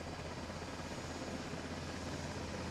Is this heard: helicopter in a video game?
yes